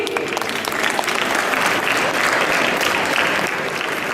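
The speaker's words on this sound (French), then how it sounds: "on peut applaudir le jury" Audience at a cosplay parade at the Japanantes 2012 convention applauds the jury, a dense, steady roar of clapping that holds loudly for about four seconds with a faint crowd murmur underneath.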